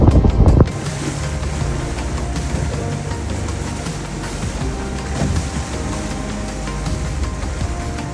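A trimaran sailing fast at 16 to 17 knots under reefed main and genoa in over 20 knots of wind, with loud continuous rushing water, wave wash and buffeting wind noise close to the microphone throughout.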